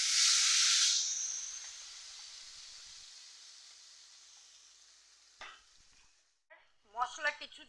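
Spice paste and whole spices (white cumin, whole garam masala, bay leaf) hitting hot mustard oil: a sharp, loud sizzle that quickly settles into a faint, steady hiss, with brief stirring scrapes toward the end.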